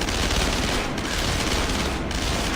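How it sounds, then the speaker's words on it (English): Heavy sustained gunfire in the stealth shooter Splinter Cell: Conviction, a dense, continuous roar of shots and impacts that is loud and close, with no other sounds. "I'm under some pretty heavy fire"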